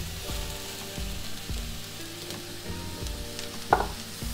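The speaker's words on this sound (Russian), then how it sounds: "В сковороде я разогрела растительное масло, перекладываю сюда грибочки" Mushrooms sizzle steadily in hot oil in a pan, with a short clatter near the end.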